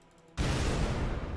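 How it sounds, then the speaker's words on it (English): A loud door-breaching explosion from the video game Halo 3, a sudden broadband blast that cuts in after a quiet start and holds as a dense, sustained roar to the end. "So that's the sound of the door breaching."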